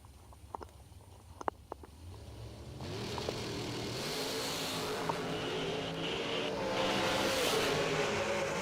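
A drag racing dragster launches at a half-million-dollar race event, its engine roar swelling quickly from a quiet start and holding steady and loud as the car pulls away down the track.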